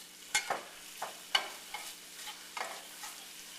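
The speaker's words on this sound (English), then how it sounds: "Now the onions are going to take the longest to cook, so I'm going to put those in here first." Onions cook in a pan for beef wellington with a faint sizzle, and several soft stirring scrapes come at irregular intervals.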